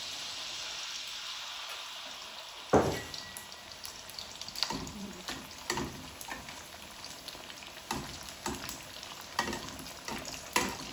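Chonge batter, poured in a dollop, fries in hot oil for a Muharram recipe, giving a steady close sizzle with intermittent spattering crackles and stirring knocks.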